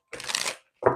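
Two quick bursts of riffling tarot cards shuffled close by, a longer ruffle followed by a short, sharper one after a brief pause.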